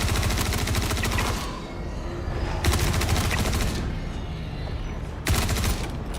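Rapid bursts of video game gunfire emptying a magazine after a radiation hit, loud and close, in three dense volleys with short gaps between them.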